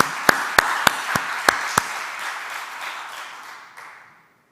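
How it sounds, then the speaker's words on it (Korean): A congregation applauds in a church during a Sunday service, opening with several sharp, separate claps before settling into a steady wash of applause that slowly fades out near the end. "우리도 한번 박수 한번 할까요?"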